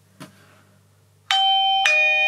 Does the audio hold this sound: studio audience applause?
no